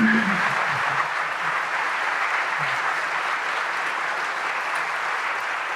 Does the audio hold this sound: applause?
yes